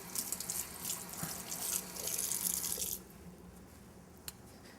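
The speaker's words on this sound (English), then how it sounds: "Rinse on my knife." Tap water runs steadily into a sink while a kitchen knife is rinsed, a close hissing stream that cuts off partway through, leaving quiet room tone and one small clink.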